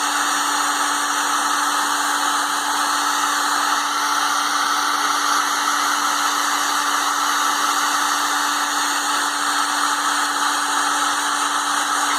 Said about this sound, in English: I'm just going to apply heat to this tubing.